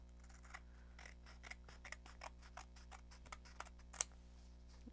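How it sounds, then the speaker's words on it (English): Scissors make quiet, steady snips through blue craft material with a white top, a series of soft clicks about every half second in an otherwise hushed room. "I'm just going to cut it."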